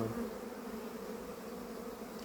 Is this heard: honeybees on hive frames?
yes